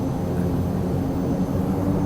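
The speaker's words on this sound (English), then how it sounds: "It's an AI plane." Steady droning hum of an AI-controlled airplane engine in Microsoft Flight Simulator, a constant low aircraft rumble with no variation and no voices.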